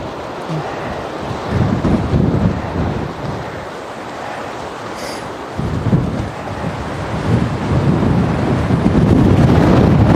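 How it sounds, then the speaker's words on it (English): Strong wind roars steadily across the microphone during a ride, a mix of crosswind and headwind, in loud surging gusts that build toward the end. No voices come through. "instead of a full headwind, we're just getting mostly a crosswind with a little headwind thrown in there"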